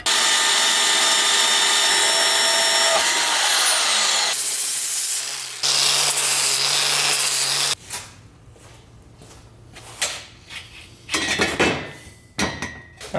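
A power tool cuts the flange off an exhaust downpipe on a WRX-swapped Subaru GC8, starting with a loud, steady grinding whine for several seconds and then breaking into uneven bursts and scrapes.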